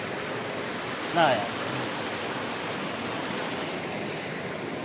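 Water pours down Nilam Sarai waterfall in Usoor, Bijapur district, Chhattisgarh, a steady broadband roar holding even throughout, with a short spoken remark near the start.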